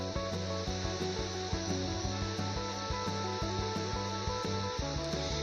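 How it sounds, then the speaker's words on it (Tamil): Small onions for drumstick sambar sizzle in a pan, a steady close hiss with light rhythmic scraping and stirring knocks from a utensil repeating throughout. "இந்த வெங்காயத்தை நல்லா வதக்கி விட்டுருங்க."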